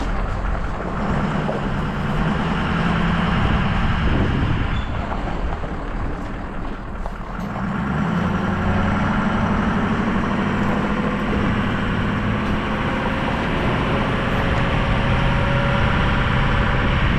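A tractor engine runs outdoors on a rural property near a pond, giving a continuous low mechanical drone with some wind buffeting and a brief dip partway through.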